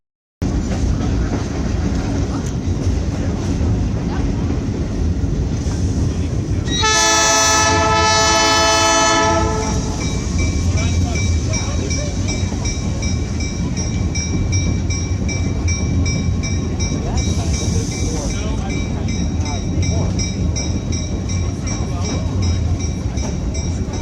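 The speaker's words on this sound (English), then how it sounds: "They have the honk the horn at bridges too." The Skunk Train's horn sounds loud and close in a sustained blast of about two seconds while the train crosses a bridge on the Fort Bragg line. A steady rolling rumble of the railcars carries on underneath, and a fainter hoot follows later.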